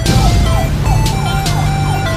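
A cartoon police car siren wails in repeating up-and-down sweeps, loud and steady over a low continuous rumble, with a couple of brief bright bursts along the way.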